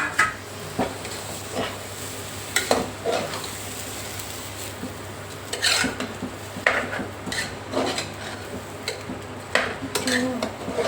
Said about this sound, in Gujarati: હવે જો ચોખા નાખે છે